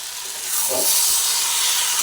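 Watermelon rind curry sizzling as it is sautéed in a pan, a steady close hiss and crackle of frying that swells slightly partway through and holds on without talk.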